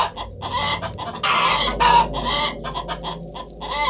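Chickens clucking in an animation, a close cluster of repeated clucks and squawks with a brief crowing note, fairly loud over a low background hum.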